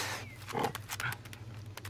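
A dog in Assassin's Creed Odyssey gives a short, close bark or yelp at about the halfway mark, over a steady low game hum with faint background sounds.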